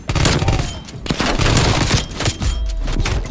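Bursts of gunfire in a shooter video game with sniper rifles, loud rattling volleys with short gaps between them, close and punchy, with no voices over them.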